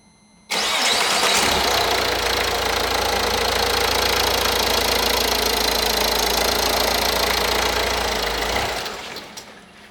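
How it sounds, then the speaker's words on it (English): A diesel car engine cranks and catches, running loud and rough with a steady knocking rumble for several seconds before sputtering out and stalling. "that didn't work, the engine stalled on us"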